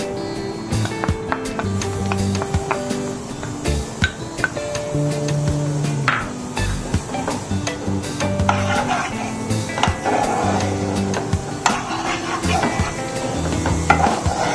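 Onion cooking in a pan for a corn chaat appetizer: loud, continuous frying sizzle with repeated scraping and knocking of a spoon stirring against the pan.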